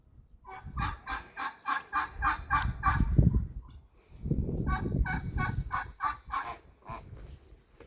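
Geese and turkeys grazing together outdoors on a road trade a rapid series of nearby gobbles and honks in two bursts, separated by a brief pause.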